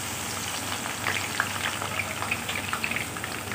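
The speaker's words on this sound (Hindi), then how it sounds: "अब इसमें ये सारी प्याज हम डाल रहे हैं" Onions fry in hot oil with a steady, close sizzling hiss, dotted with small sharp crackles and pops throughout.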